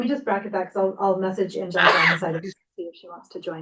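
During a business meeting, a sudden sneeze bursts out in the middle of steady talking, a single sharp burst that rises above the voices before speech resumes after a brief pause.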